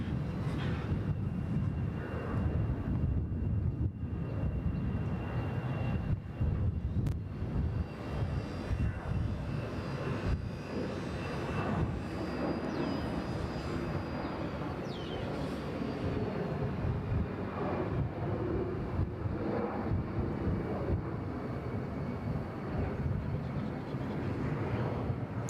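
A Cambodia Airways airliner rumbles at Bangkok Suvarnabhumi Airport, a steady broad jet engine roar heard from a distance, continuous and moderately faint with no talk.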